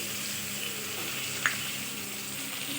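Steady, soft frying sizzle of boiled jackfruit seeds in a pan, a continuous hiss with one small clink partway through.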